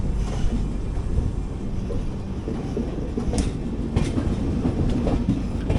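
The Kacheguda–Madurai Superfast Express runs on the line toward Anantapur, heard from aboard. There is a loud, constant rumble with rhythmic clickety-clack from the wheels and wind buffeting the microphone.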